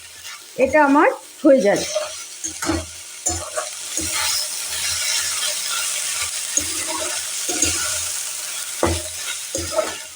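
A spatula stirs a plantain stem mixture in a pan over a raised flame, scraping and sizzling steadily and close, with brief speech at the start and now and then throughout.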